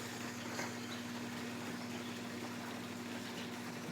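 A pump transfers sugar syrup out of a tank in a beekeeping setup, giving a steady, even whirring drone with a constant low hum and no pauses.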